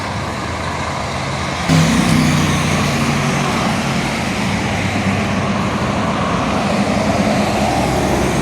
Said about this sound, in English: Now I've got to cross this dangerous, busy intersection, Wellington Road, Princess Highway here.